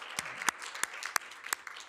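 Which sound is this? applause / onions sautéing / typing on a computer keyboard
applause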